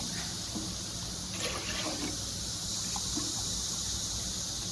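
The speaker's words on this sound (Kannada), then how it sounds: "1:2 ಕಪ್ಪಲ್ಲಿ ನಾನು ನೀರು ಹಾಕ್ಕೊಳ್ತಾ ಇದ್ದೇನೆ." Water is poured into a cup for a cooking preparation, a steady splashing trickle that continues through the whole moment with no talk.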